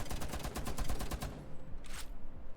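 Rapid automatic gunfire on a Rainbow Six Siege shooting range: a dense, even burst of shots for over a second, a brief pause, then another short burst, all fairly close and punchy.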